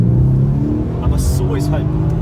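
Mercedes C63 AMG engine droning loud and steady while driving, a brief rising rev near the middle, with a voice talking over the engine noise.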